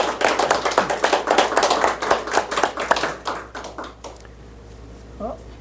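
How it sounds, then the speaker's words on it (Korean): A church congregation claps together for parents on Parents' Sunday, a sharp, rhythmic burst of hand claps that thins out and stops after about four seconds, leaving a quiet room with a faint voice. "감사와 격려의 박수를 보내겠습니다"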